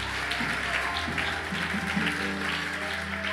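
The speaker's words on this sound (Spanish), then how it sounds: "Aplaude a Dios, aplaude." A church congregation applauds in a dense, steady wash of clapping layered over sustained musical tones, lasting throughout.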